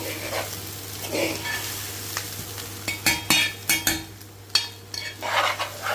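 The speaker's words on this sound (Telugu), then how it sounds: "ఇదిగోండి చికెన్ వేసాక కలుపుకుంటున్నాము." Chicken being stirred with biryani masala in a pot, a soft sizzle under irregular scraping and clinking strokes of a spoon against metal, closer and sharper toward the end.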